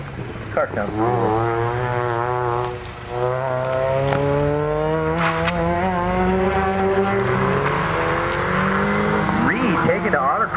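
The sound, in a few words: autocross race car driving the course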